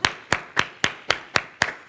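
An audience clapping a rhythm together, seven sharp unified claps at an even pace of about four per second, close and crisp with no talk.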